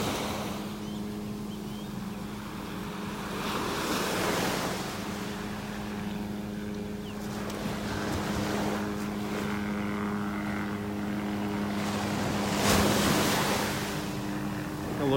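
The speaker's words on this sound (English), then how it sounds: "Not as big a waves as we had yesterday" Waves wash onto a beach in North Naples, Florida, a steady rushing surf with surges building and fading, mixed with wind and a low droning hum in the background.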